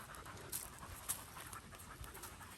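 Dogs pant quickly and steadily after a walk, a close, rhythmic breathy huffing that continues throughout.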